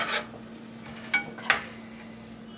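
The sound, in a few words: pot clanking and spoon stirring while cooking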